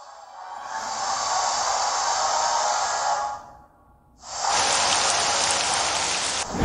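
Rain weather effect from Pokémon Ultra Sun/Moon, a steady hissing downpour that drops out briefly near the middle, then returns louder and brighter, with no talk over it.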